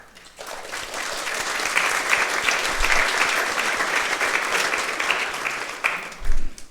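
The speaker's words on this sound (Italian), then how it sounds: "We always like it when people applaud before the class." A crowd gathered for a class bursts into sustained applause, many hands clapping densely and evenly for several seconds before it tapers off, with a brief low thump near the end.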